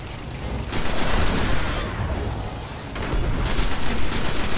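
Loud, continuous automatic gunfire in the video game Destiny, a dense rattling burst that dips briefly around the middle before resuming.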